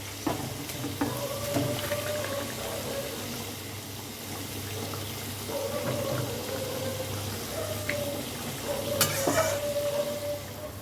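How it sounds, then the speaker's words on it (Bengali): Fried pabda fish and eggplant added to a simmering, thin curry: continuous bubbling and sizzling with a spoon stirring and clinking against the pot, moderately close, no speech. "এবার মাছ আর বেগুন ভাজাটা দিয়ে দেবো"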